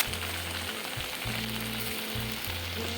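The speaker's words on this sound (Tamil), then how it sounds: "இப்போ இதில் கருவேப்பிலையும் கொத்தமல்லியும் நல்லா ஃபுல்லாக வதக்கிடுவோம்" Curry leaves and coriander sautéing in a pan, a soft continuous sizzle with a low steady hum running underneath, fairly quiet and close.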